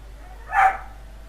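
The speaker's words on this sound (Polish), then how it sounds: "pies szczeka, bo mucha lata w domu" A dog gives a single short bark in a game scene, a brief mid-level yap that rises and fades within a second against a quiet background.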